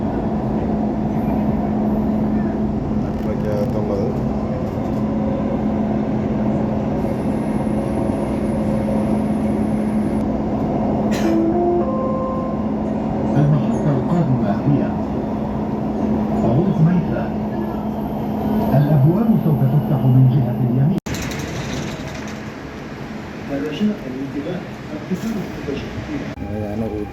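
Riding inside a moving Dubai Metro train: a continuous rumble with a steady hum runs throughout, shifting briefly near the end as the train changes pace.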